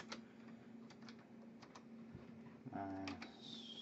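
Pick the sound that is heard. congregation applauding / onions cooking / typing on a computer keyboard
typing on a computer keyboard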